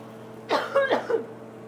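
A short fit of three or four quick coughs from a person cooking with chilies, close by, in a quiet room.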